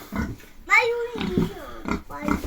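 Several grunting, squealing pigs up close in a farm barn, with short breaks between bursts.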